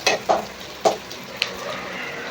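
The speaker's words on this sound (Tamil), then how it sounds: "பெரிய வெங்காயத்தை ஆயிலே போட்டு நல்லா பொரியிற மாதிரி வதங்க விடணும்." Chopped large onions frying in hot oil for a noodle dish, with a few sharp stirring clatters of a spoon against the pan over a steady soft sizzle, close and moderately loud.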